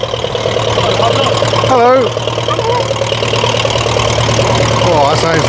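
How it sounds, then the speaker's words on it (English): A little grey Ferguson tractor at a classic vehicle and tractor parade runs with a steady, close idling engine throughout, with people chatting over it and a brief greeting spoken. "A little grey Fergie firing up."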